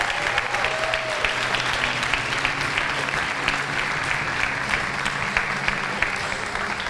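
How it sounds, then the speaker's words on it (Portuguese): A studio audience on a late-night talk show applauds to welcome a guest, sustained, even clapping from many people at a steady level. "Vamos receber ele com aplausos,"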